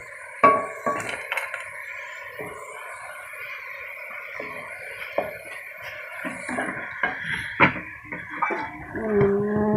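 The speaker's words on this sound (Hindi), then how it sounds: "ये करेले मैंने फ्राई कर लिए और अब मैं इनको इस प्लेट में निकाल लेती हूँ" Fried bitter gourds are lifted from ghee onto a plate, giving scattered clinks and scrapes of utensil on metal and dishware, sharp and close in a quiet kitchen.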